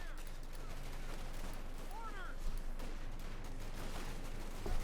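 Rifle gunfire from riflemen in the Company of Heroes 2 video game, a scattered run of sharp shots among other battle sounds, moderately loud and with no talk.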